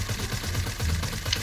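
Rapid automatic gunfire in Fortnite, a continuous rattling burst of shots at steady loudness with dense, overlapping reports and no talking.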